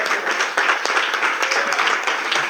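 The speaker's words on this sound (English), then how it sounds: "clap it up for yourselves" An audience at an open mic night at the Bowery Poetry Club claps for itself, with dense, lively applause close by and no talking over it.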